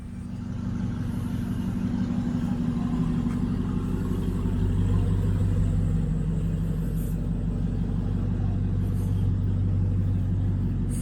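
A 2015 Audi R8 engine rumbles loudly and steadily nearby, a deep, throaty drone that stays fairly even without distinct revs.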